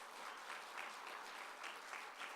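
Church congregation clapping during a Sunday service, steady sustained applause filling the room throughout with no voices over it.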